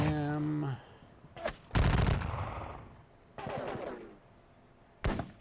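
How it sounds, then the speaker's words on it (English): Musket volleys from skirmishers in a Napoleonic battle game at Dennewitz: several sharp bursts of crackling gunfire at uneven intervals, with a clipped game voice cue at the start. "let's go ahead and just start shooting at things"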